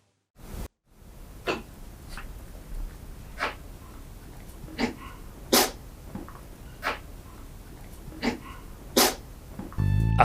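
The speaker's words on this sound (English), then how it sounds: "Enkeli was coughing and sneezing constantly" A puppy with a respiratory illness sneezes and coughs over and over. About nine sharp, close bursts come at uneven intervals against quiet room noise, and no one speaks.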